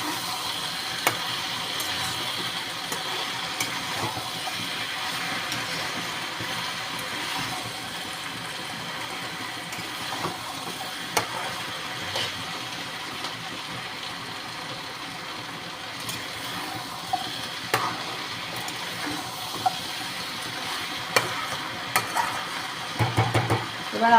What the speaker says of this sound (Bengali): আবার ঢাকাটা খুলে নাড়া দিচ্ছি।